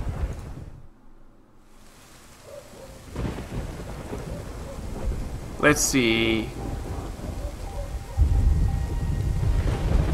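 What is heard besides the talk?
thunderstorm with rain in a video game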